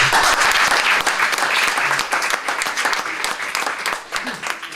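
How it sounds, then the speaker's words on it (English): An audience applauds a guest speaker at a corporate digital talk, sustained clapping that swells and thins slightly over several seconds, with a voice briefly heard over it. "let's give a big round of applause for our guest speaker"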